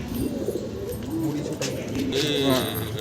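Roller pigeons coo up close in low, rolling, repeated calls, with a voice talking over them.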